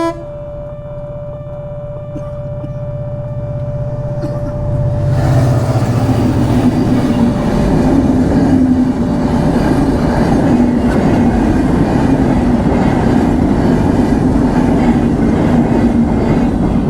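A train passes a level crossing, its rumble and clatter rising after a few seconds into a loud, sustained roar that continues steadily, with a faint tone audible before it builds.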